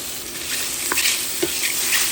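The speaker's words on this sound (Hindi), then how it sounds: "जैसे ही तेल गर्म हो गया तो हम लोग ये बाइट जो है पैन फ्राई कर लेंगे" Scallop surimi bites pan-frying in hot oil give off a bright, steady sizzle with occasional spattering pops, close and loud with no talking.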